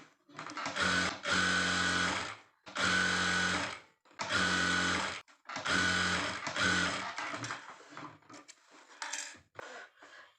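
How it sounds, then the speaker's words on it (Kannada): A sewing machine stitching a puff sleeve onto the main cloth, close rapid whirring bursts in several runs of about a second each, separated by short pauses, ending with lighter handling clicks. "ಇಲ್ಲಿಗೆ ಒಂದು ಹೊಲಿಗೆ ಹಾಕೋಬೇಕು"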